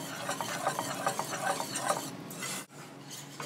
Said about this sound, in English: I'm gonna add half of my Gruyere, I'm gonna cut the heat, and then just fold it together until it's all melted